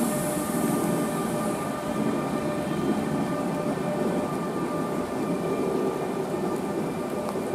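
A freight train with locomotives rolls past in Kufstein, a steady loud rumble of wheels and wagons that holds without break, with a faint high squeal near the start.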